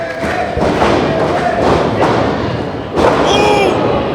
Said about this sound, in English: What a backbreaker.